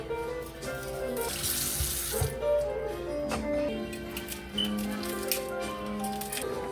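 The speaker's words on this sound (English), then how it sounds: "So we go ahead and wash them." Tap water runs into a sink while Scotch bonnet peppers are rinsed, a steady splashing gush with a loud burst early on, then softer trickling with occasional squishy handling and clinks, no one speaking.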